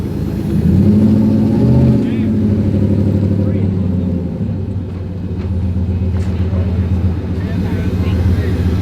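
Drag racing cars at a Christmas tree start roar and rev hard, loud engine rumble swelling then settling into a sustained drone, with people talking over it.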